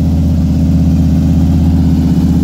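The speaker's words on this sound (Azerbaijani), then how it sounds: "Maşın səsindən dayanmaq olmur burada" An old car's engine idles loudly and steadily at an American car show, with a deep, continuous rumble and no breaks.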